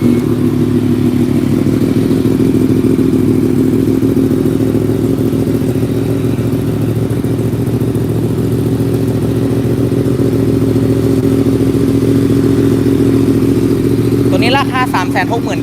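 A black 2020 Yamaha MT-10 with its crossplane CP4 engine idling steadily and loudly close by, a continuous low rumble throughout, with brief clatter near the end.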